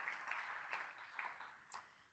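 Audience at an alumni awards ceremony applauding, a soft, steady wash of clapping heard from a distance, faint and continuous without speech.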